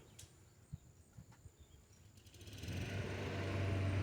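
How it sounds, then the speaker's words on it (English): A neighbor's lawn mower cutting grass drones faintly in the distance, starting after a few soft clicks and taps and swelling into a steady engine hum over the last couple of seconds. "My neighbor's cutting grass today."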